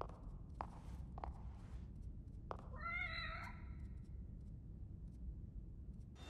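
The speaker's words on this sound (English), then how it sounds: "Kitty cat." A cat meows once in The Evil Within horror video game, a clear rising-falling cry, preceded by a few soft footsteps over a quiet low background hum.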